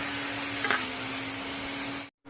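Onions sizzle steadily in a hot pan for a tomato curry, a constant frying hiss with a faint hum underneath and a brief stir near the start before a sudden cut.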